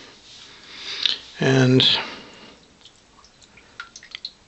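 Omega boar bristle shaving brush dropped into water makes a short splashing plop followed by a brief gurgle, then faint drips trail off; someone says a single word just before.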